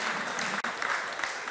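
A crowd applauding steadily, a dense wash of clapping from many hands with no pauses, fairly close and moderately loud.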